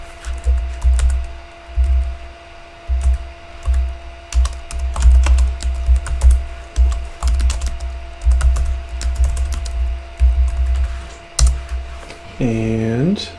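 Fingers type a Linux command on a computer keyboard in bursts of rapid clicks with short pauses, close and clear, ending with a brief electronic tone.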